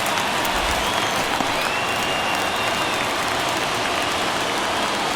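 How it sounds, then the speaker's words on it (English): A baseball stadium crowd in the MLB The Show video game roars in a broad, continuous wash of cheering and applause, loud and unbroken for the whole stretch with no clear voices on top. "Crowd locked in right now."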